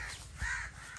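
A crow in a village gives a single harsh caw, clear and fairly close against steady outdoor background noise.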